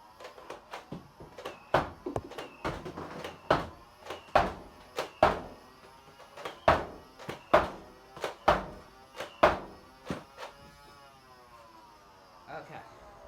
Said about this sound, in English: now for the Motostrikes,